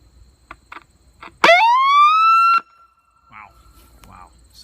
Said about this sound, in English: Let's have a quick siren,